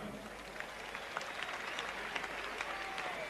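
A stadium crowd applauds steadily as athletes are introduced before a 100 m sprint, a continuous distant wash of clapping with no break.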